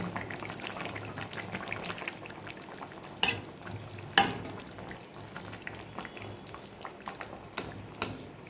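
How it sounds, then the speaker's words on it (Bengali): Fish curry with coriander leaves simmers with a low bubbling sizzle, broken by a few sharp clinks and scrapes of a utensil against the pot. "ধনেপাতাটা দিয়ে এবার একটুখানি ফুটলে পরে ঝোলটা তারপর নামিয়ে নেব"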